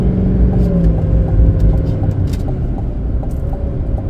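GMC Denali HD pickup with a Duramax diesel, accelerating while towing a trailer; a loud, close engine drone rises steadily with a deep rumble and no voices.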